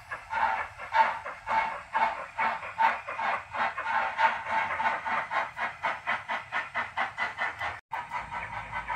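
A model J15 locomotive on a layout with automatic braking moves off, giving a rhythmic chuffing hiss that speeds up gradually, close and fairly clear, with light rail clicking beneath.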